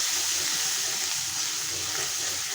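Turmeric, chili powder and green chilies frying in hot oil for a fish curry, a steady close sizzle that hisses continuously without pause.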